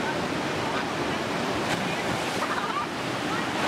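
Water rushes over the Urubuí river rapids in Presidente Figueiredo after a week of rain, raising the water level, a loud, continuous broadband roar filling the whole stretch without pause.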